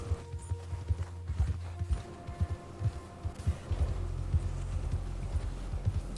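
Horse hooves clip-clopping in Red Dead Redemption 2 while climbing a mountain, a steady run of close, distinct hoof strikes over a low game ambience, no talk.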